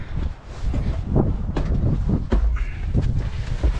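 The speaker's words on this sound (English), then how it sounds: "Ooh, it's getting windy." Gusty wind blows outdoors on a farm where an old tractor is being restarted, buffeting the microphone in uneven rumbling surges with no speech.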